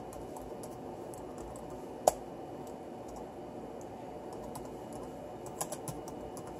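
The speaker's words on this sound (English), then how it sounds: "we're going to want to type in disk part." Computer keyboard keys tapped while entering a Windows command-line disk command, light irregular clicks with one sharp louder keystroke and a small burst near the end, faint over a steady background hum.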